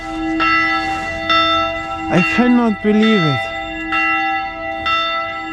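Church bells ring in a steady, near, resonant pattern of repeated strikes beside the steep Höttinger Höll climb, while someone talks excitedly over them.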